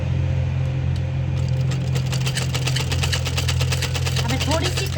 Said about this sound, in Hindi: देखो इस तरह से मैं सिलाई लगा रही हूँ।